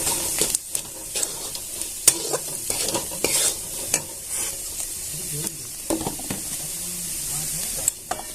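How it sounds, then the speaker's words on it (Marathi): Wheat bran stir-fried with chili and onion in a pan, repeated sharp scrapes and clinks of a spoon over a low sizzle, close and irregular. "आपण आता कोंडा असं परतून घ्यायचा सारखं"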